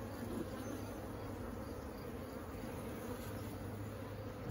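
Honey bees humming at a single-brood-chamber hive in early June, a faint continuous buzzing drone with no voices.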